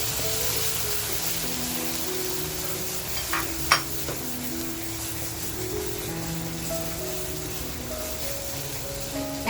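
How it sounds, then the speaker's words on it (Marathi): Ground homemade masala paste frying in hot oil for a Kolhapuri mutton curry, a soft continuous sizzle with occasional stirring clinks, faint background music running beneath. "आता आपण जो मसाला वाटून घेतलाय तो मसाला टाकते."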